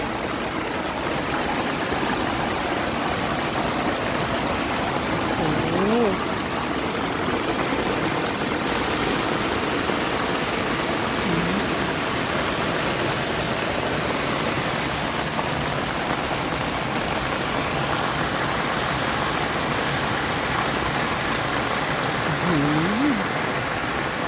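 Steady rushing floodwater flows in from a garden during a storm, continuous, a dense even wash of noise with faint brief voice fragments underneath.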